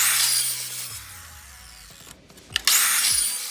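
A saw set to 45 degrees cuts steel tubing, giving a loud, harsh grinding rasp that stops, the motor winding down with a falling whine, then cuts in again near the end.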